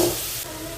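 Vegetables sautéing in a pan for sambar, a steady close sizzle and hiss that holds evenly through the brief moment.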